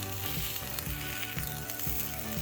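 Onions pressed flat on a hot griddle sizzle and caramelize while barbacoa tacos are cooked, a continuous frying hiss that runs alongside a repeating rhythmic background pattern.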